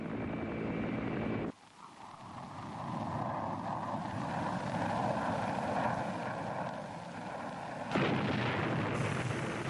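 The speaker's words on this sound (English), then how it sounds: "Fighter bombers and helicopter gunships hammered the landing zones." Heavy, rumbling aircraft noise with booming blasts and gunfire-like bursts, loud and continuous, as fighter bombers and helicopter gunships roar overhead attacking landing zones in the Vietnam War.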